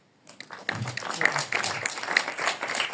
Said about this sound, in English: That definitely also deserves an applaud